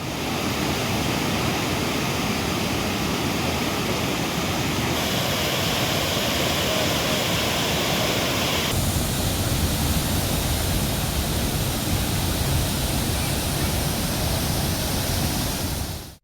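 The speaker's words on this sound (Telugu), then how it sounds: "2 రోజులుగా కురుస్తున్న భారీ వర్షాలకు కొడంగల్ నియోజకవర్గంలోని అన్ని చెరువులు, కుంటలు, వాగులు, అలుగులు పారుతున్నాయి" Heavy rain runoff pours through overflowing ponds, tanks and streams in Kodangal constituency after two days of downpour, a loud, steady broadband rush of flowing water that holds constant throughout with no pauses.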